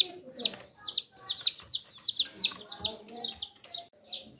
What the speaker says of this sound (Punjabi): ਹੁਣ ਮੇਰੇ ਕੋਲ 6 ਚੂਚੇ ਵੇਖ ਸਕਦੇ ਹੋ